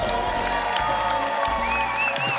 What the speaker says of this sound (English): Hear the popular cheer there for Gita Michels